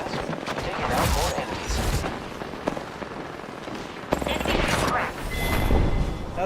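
Gunfire in a video game, with dense rapid volleys and crackling bursts that swell and fade across a busy, continuous battle soundscape.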